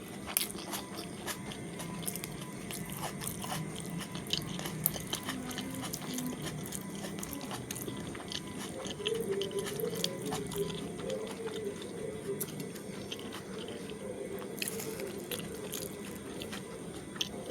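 Someone eats bang fish curry with salad and rice. Faint, close biting and chewing sounds repeat irregularly over a quiet background, with soft crunches and small clicks scattered throughout.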